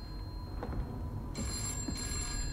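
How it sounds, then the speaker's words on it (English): Telephone ringing upstairs in a Roblox horror game, two bursts of a high electronic trill, somewhat distant and clear over a low background hum. "There's a phone ringing. It's the phone upstairs."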